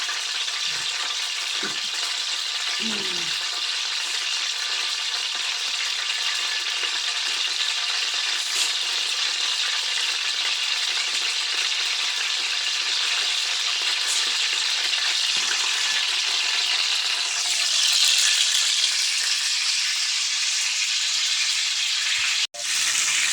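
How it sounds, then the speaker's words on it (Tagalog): Cooking oil heating in a pan before frying saba bananas gives a steady, even sizzling hiss that holds for over twenty seconds, with a few faint clinks early on and a brief sharp knock near the end. "pinapainit muna natin ang ating mantika"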